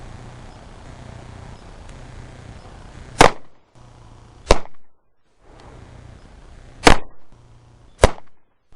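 Hi-Point C9 Compact 9mm pistol fired at a range: four sharp, loud single shots spaced about a second or more apart, each followed by a short echo, with quiet outdoor background between.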